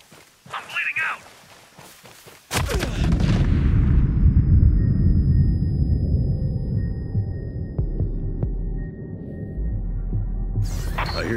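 A heavy burst of gunfire and rumbling explosions fills a Ghost Recon Breakpoint match, loud and sustained for several seconds after a brief quieter stretch.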